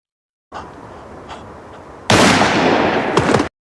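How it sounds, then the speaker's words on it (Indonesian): Gunfire in a Stalingrad war film: a few faint shots, then a sudden loud burst of rapid, overlapping shooting that continues for over a second before cutting off. "sangat muak dengan kelakuan Kapten Heller pada akhirnya menembak mati perwira tersebut"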